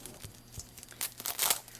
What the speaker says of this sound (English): So let's unwrap and take a look.